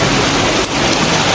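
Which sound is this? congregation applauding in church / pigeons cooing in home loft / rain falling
rain falling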